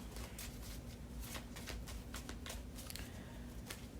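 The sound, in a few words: shuffling tarot cards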